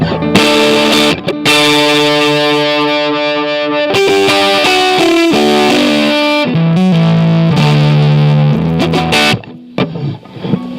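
Electric guitar played through a Paul Cochrane Tim overdrive boost pedal, gritty, compressed and sustained, chords and single notes ringing loudly with brief pauses between phrases.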